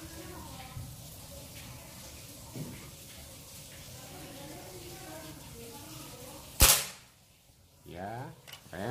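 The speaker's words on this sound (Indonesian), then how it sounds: "Tembakan ketiga." Soft talk and room murmur precede one sudden, sharp shot from a bullpup air rifle with a 50 cm barrel, charged to 3500 psi, that snaps loudly and fades fast, then a voice speaks briefly.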